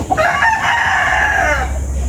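A rooster crows once, a loud, drawn-out call close by, with faint farmyard clucking underneath from hens at a gamefowl farm.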